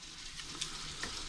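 Steak sizzling in a hot frying pan with crushed garlic cloves, a soft, steady crackle and hiss with a couple of sharper pops, heard alone and faintly for a moment.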